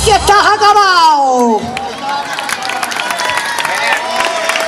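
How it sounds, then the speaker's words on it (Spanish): A live audience at a Spanish-language comedy show applauds. Dense clapping and crowd noise fill the clip, coming in after a loud voiced shout at the start and holding steady to the end. "un fuerte aplauso para ellos"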